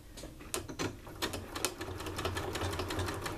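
A sewing machine doing free-motion appliqué stitching runs close by in a fast, steady mechanical patter of needle strikes, heard alone without voices.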